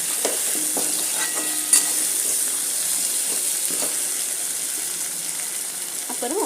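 Cut sweet potato pieces sautéing in a pan for a tangy tamarind curry, giving a steady soft sizzle with occasional stirring scrapes throughout, fairly close and without talk.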